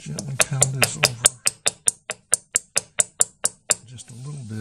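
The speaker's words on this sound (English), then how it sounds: "I grab my peening hammer" Peening hammer pounding a metal rod on a piece of metal while making an octant, about sixteen sharp ringing taps in quick steady succession, close and clear, with speech before and after.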